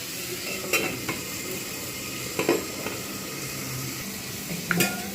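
Bitter gourd and potato pieces fry under a lid in a covered pan, a low continuous sizzle broken by a few clinks and scrapes of utensils, moderately close and without talk.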